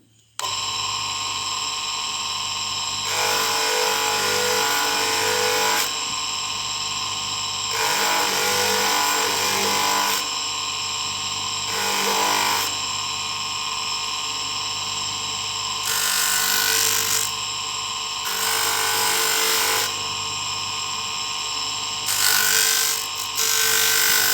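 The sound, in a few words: sanding mokume gane ring with 220 grit sandpaper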